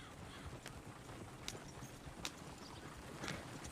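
Horses in the western game Red Dead Redemption 2 clip-clop along at a steady gait, the hoofbeats fairly faint against a soft outdoor background.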